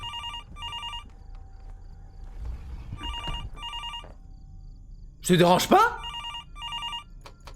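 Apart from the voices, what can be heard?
telephone ringing in the video game Fears to Fathom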